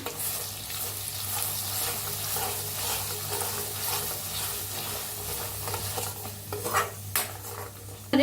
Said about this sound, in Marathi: आता आपण मसाला बनवून घेतलेला पेस्ट घालूया